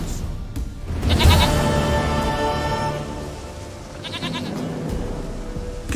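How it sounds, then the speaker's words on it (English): Goat bleating in the video game The Witcher 3, with several drawn-out bleats rising over background game ambience, loud and close, one near the start and another toward the end. "Goat of mine, dearest, sweetest goat."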